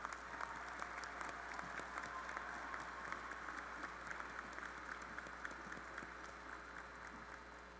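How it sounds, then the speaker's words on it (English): Audience applause at a university graduate student recognition ceremony, a steady, even wash of many hands clapping heard from a distance over a constant low hum, continuing unbroken throughout. "Let's have a round of applause for all those students."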